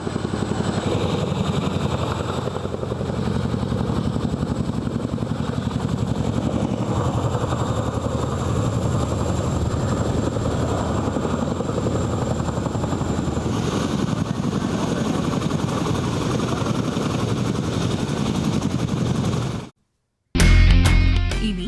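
An Indian Air Force rescue helicopter roars loud and close with a steady rotor thump and engine whine that holds almost unbroken, then cuts off briefly before resuming.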